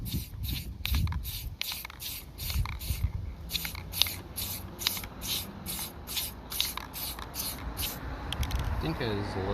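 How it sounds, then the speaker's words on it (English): Spray paint hissing in short bursts onto a street curb while painting a house address number, a series of quick rhythmic sprays close by with faint scraping and movement underneath. "just slight sprays to the left"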